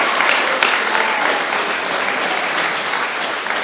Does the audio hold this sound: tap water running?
no